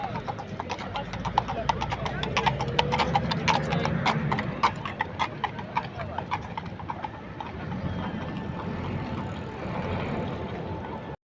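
Horse hooves clip-clop in a quick, steady rhythm on hard pavement in Paris, clear and close at first, then fading under background voices and street noise.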